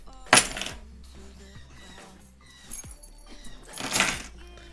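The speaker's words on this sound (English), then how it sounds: "I was going to take some keys out of my pocket." Keys are pulled out of a pocket with two short, bright metallic jangles, one near the start and another near the end. Faint scattered clinks and quiet background fill the space between them.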